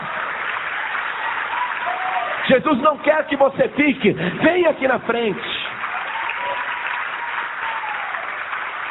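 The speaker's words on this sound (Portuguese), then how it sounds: "Vamos aplaudir mais o Senhor Jesus" A church congregation applauds steadily throughout while a preacher speaks loudly over it in the middle, calling people forward at an evangelical service.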